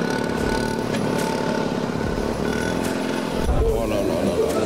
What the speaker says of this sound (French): c'est un bruit bizarre, ça c'est un bruit de 2 cylindres